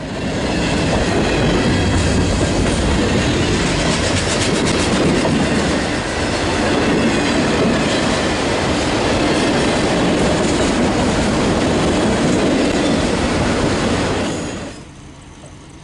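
CN Geep locomotives roll past with a freight train, a loud, close, steady rumble of wheels and cars with clickety-clack and some squeal, fading abruptly near the end.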